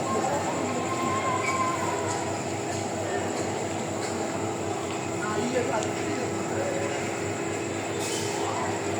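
Trains rumble and roll steadily through Chittagong railway station, a large busy terminal, with continuous wheel and carriage noise, occasional clicks and squeals, and people talking nearby.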